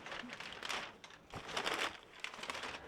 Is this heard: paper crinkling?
yes